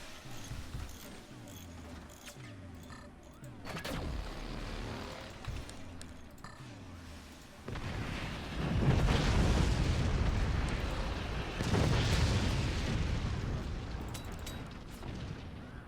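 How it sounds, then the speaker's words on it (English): In the video game Forts, 20mm cannon fire and explosions hit a tower. Repeated thumps and pops are followed by loud, sustained rumbling blasts that swell twice, with game music or tones underneath. "A second 20mm cannon has hit the tower."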